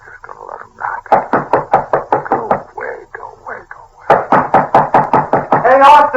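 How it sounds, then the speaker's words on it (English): Knuckles rap on a door in an old radio drama, two bursts of quick, sharp, even knocks separated by a short pause, close and loud. "Just gonna let him knock."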